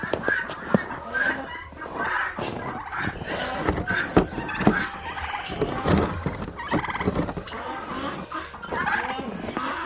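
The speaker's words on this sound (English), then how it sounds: "Chickens, turkeys, and ducks now." Turkeys gobble repeatedly among clucking chickens, ducks and guinea fowl in a snowy Michigan farmyard, a dense, busy chorus of overlapping poultry calls close by.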